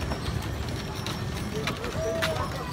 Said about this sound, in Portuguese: Agora é que vem carro de boi, pessoal.